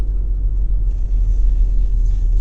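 Car engine in third gear on a driving-school campus in Maynooth, a steady low rumble from inside the cabin that holds evenly throughout with no talking.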